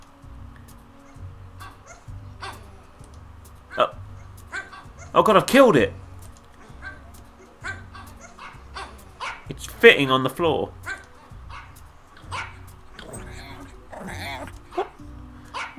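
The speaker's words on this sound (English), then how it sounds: "It's made out of some weird squishy fabric that's trying to sound like a dog." Squishy fabric pug dog toy in the Femida video game giving out a pair of short, loud, synthetic barks and yelps, heard amid ongoing talk and faint game background sound.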